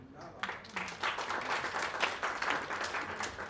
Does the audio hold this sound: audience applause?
yes